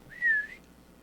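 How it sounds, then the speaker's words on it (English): A single short whistle from a person, a clear sliding tone lasting about half a second against a quiet background. "knelt down and patted the tops of her legs and then gave a whistle."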